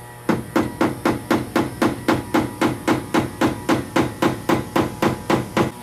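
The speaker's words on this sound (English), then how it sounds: "Now I'm just gonna take the screwdriver and give it a few taps" A screwdriver is tapped against the fuel pump lock ring on a 2001–2003 Ford Ranger, producing about twenty close, loud metallic knocks in a steady, even rhythm.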